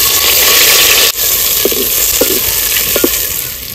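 Bay leaf, whole cumin, chopped onion and tomato fry in hot oil in a pan, giving a loud, continuous sizzle. A few light stirring scrapes and taps cut in near the middle.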